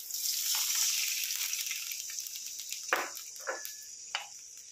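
A little water poured into a hot pan of okra curry, a bright steady sizzling hiss broken by a few short splashy bursts near the end, close and without talk.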